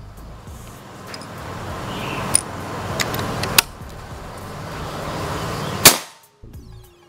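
Shots from a Predator Ghost Warrior PCP air rifle, one sharp crack standing out near the end over steady background noise, with a few fainter clicks earlier.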